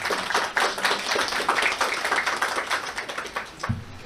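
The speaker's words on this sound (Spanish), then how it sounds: "La recibimos con un aplauso" An audience at a psychoanalysis symposium claps in dense, steady applause that sounds thin and somewhat distant, tapering off near the end.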